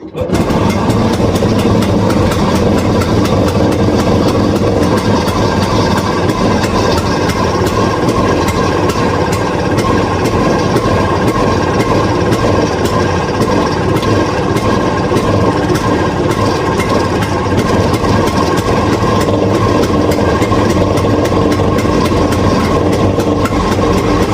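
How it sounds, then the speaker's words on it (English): An engine runs steadily at idle for the whole stretch, a loud, continuous low rumble with no voices. "when I started the engine and it was idling fast enough"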